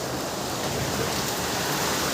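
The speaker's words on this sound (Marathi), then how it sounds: "खतरनाक खतरनाक जोरदार पाऊस झाला" Heavy monsoon rain falls on a village, making a dense, even roar of broadband noise that continues steadily, fairly faint, with no voices.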